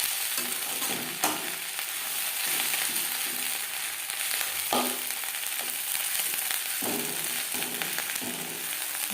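Onion stalks and green chillies fry in a pan with a continuous close sizzle, broken by repeated spatula scrapes and stirring knocks at an uneven pace.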